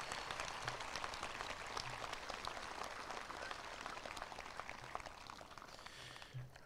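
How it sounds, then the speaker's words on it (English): Steady crowd applause fills a high school graduation ceremony as the audience honors the maintenance crew, a dense, even patter of many hands sustained throughout without speech. "So please give our maintenance crew a round of applause."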